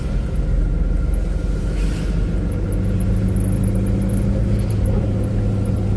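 A transport truck rolls along a road near an overpass on the Mumbai–Agra highway, a steady low engine rumble and road noise heard from inside, continuous and fairly loud.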